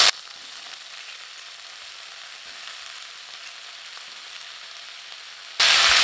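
Drumstick pieces sauté with onions in a pan, giving off a steady, soft hissing sizzle that holds evenly until an abrupt loud burst at the very end.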